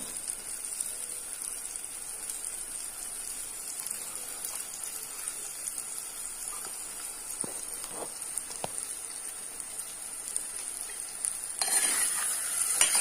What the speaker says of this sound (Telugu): ఆయిల్ వీటెక్కాక ముందుగా తరిగి పెట్టుకున్న ఉల్లిపాయలు వేసుకోవాలి